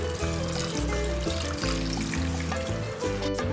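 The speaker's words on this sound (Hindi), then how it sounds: "स्टिक राइस नूडल को गर्म पानी में से निकालने के बाद एक बार उस पर ठंडा पानी और डालेंगे।" Cold water poured over rice stick noodles makes a steady trickling, splashing stream that runs close and continuous throughout, with nobody talking.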